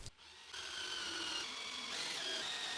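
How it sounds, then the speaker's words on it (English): Power drill boring guide holes and driving screws into a pallet wood armrest of an Adirondack chair, a steady close whirr that starts after a brief pause and runs continuously. "I drill guide holes and I screw it."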